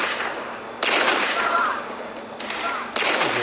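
Bursts of rapid automatic gunfire in the video game Pocket Troops: Tactical RPG, loud and close, in two long sustained volleys with a short pause between, sharp and electronic-sounding.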